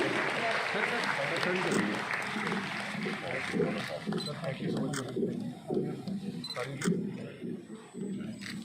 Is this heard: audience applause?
yes